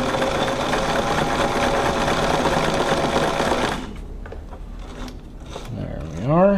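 A Brother VX757 sewing machine runs a short zigzag stitch with a fast, loud mechanical whir for a few seconds, then stops, leaving quieter handling noises and a brief mechanical squeak.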